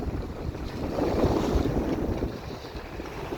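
Steady, rushing wind, around force 5 in the gusts, buffets the microphone over the wash of water against a moving sailboat on starboard tack, with no voices.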